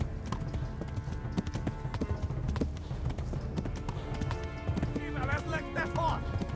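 Rapid hoofbeats of a galloping horse patter steadily in a Kingdom Come Deliverance game scene, moderately close, with a person talking over them throughout.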